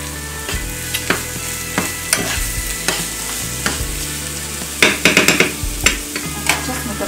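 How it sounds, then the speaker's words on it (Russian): Carrots, peppers and onions stirred and frying in a pan, with a loud continuous sizzle and repeated scraping clatters of the spoon against the pan, close up with no voices. "сейчас мы добавляем это все к нашим морковке, перчику, лучку, чтобы оно потушилось"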